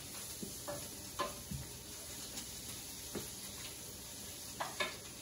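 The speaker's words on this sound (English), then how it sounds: "stir those beans and stir the onion and the spices into the beans" Beans, onion and spices are stirred in a pot over a soft sizzle, with a few scattered scrapes and knocks of the spoon at a moderate distance.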